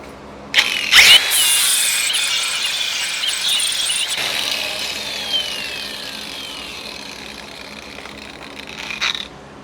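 A power tool grinds a metal piece clamped on a magnetic chuck: a harsh, steady whine begins abruptly near the start, holds loud and fairly even throughout with a short dip midway, then ends with a brief burst.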